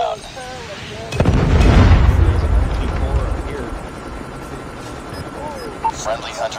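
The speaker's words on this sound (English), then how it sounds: "Predator missile inbound." A predator missile strike in Call of Duty Mobile on the Nuketown map lands with a loud booming blast and a long rumbling tail, while game announcer voices and background battle noise carry on around it.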